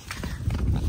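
A young horse being lunged moves on a circle, its hooves thudding in quick, close, muffled beats over a short burst of movement.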